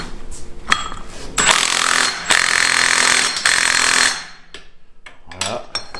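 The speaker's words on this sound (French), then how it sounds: "Un petit coup de clé à choc." Pneumatic impact wrench in a car repair garage, firing in several loud rattling bursts of about a second each with short pauses between, followed by quieter clinks of tools.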